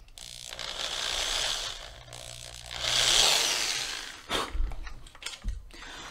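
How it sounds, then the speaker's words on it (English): A power drill whirs through a vent window tube in two long, loud bursts, followed by a few sharp clunks and rattles as it stops. "So I'm going to drill that all the way through now."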